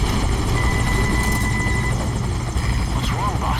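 A helicopter in the video game Metal Gear Solid V: Ground Zeroes gives off a steady, loud rotor and engine drone throughout, with game sounds and some talk over it.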